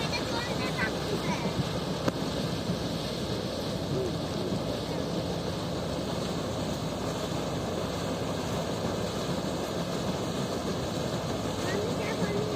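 A boat moving along a river gives a steady, unbroken rumble of engine and water, with wind buffeting the microphone throughout and no clear voices.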